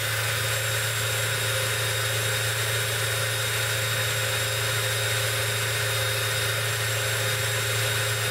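A Stanley SCD12 12V cordless drill spins freely at steady speed for a no-load RPM test, a continuous loud whine and motor hum with no change in pitch throughout.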